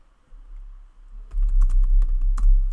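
Fingers tap on a computer keyboard, a short run of light, close keystrokes over a quiet low hum.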